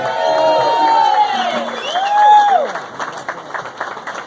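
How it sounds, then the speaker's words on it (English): A crowd applauds and cheers, with whoops and shouts rising over steady clapping that continues throughout, fairly loud and close. "Round of applause, ladies and gentlemen."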